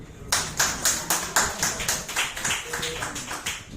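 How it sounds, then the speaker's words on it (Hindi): An audience claps in a steady rhythm, each clap sharp and evenly spaced, moderately loud and continuing without pause. "ताली बजाएंगे।"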